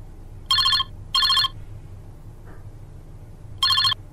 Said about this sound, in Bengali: ঠিক কিছুক্ষণ পরেই পীযূষের ফোন আসে।